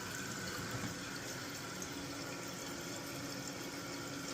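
Toilet tank refilling with water after a repair-kit installation, a steady close hissing rush of inflow that stays even and unbroken throughout.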